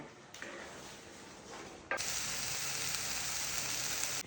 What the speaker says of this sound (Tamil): பெருசில் வச்சு நல்லா ஒரு கொதி விட்டுங்க. சின்னதை வச்சு அப்பப்போ கலக்கி விட்டுக்கோங்க.